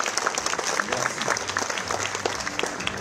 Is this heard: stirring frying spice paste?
no